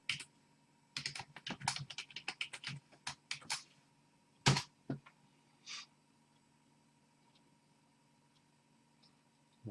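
Keys on a computer keyboard are tapped in quick irregular bursts nearby, then a few isolated clicks follow with quiet gaps between.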